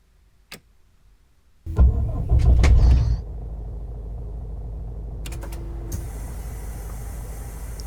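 A Setra 531 DT coach in Fernbus Simulator starts up after near-silence: a loud rumbling crank turns over, then settles into a steady, low engine idle with a faint mechanical click.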